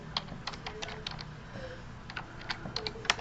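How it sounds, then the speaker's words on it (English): Keys tapped in quick, irregular bursts on a graphing calculator while a function is entered, close and fairly soft, with no talking. "it gives us the function already, so we can just type that right in"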